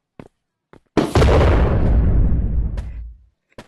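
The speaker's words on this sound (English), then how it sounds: "it's pretty big, and it sounds like the Vine boom effect" One deep, booming blast, the Vine boom effect fired from a heavy weapon in the VR game Animal Company, swells loud and rumbles out over about two seconds, with a few faint clicks before and after.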